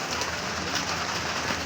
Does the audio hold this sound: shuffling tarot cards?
no